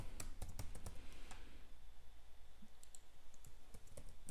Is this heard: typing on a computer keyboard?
yes